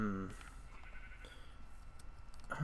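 In a blocky survival video game, a sheep gives one short, close bleat right at the start, then quieter game ambience continues.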